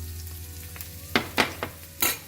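Chopped onion frying in hot oil for a keema stuffed capsicum dish, a low steady sizzle with a few bright bursts of scraping and crackle near the end as it is stirred.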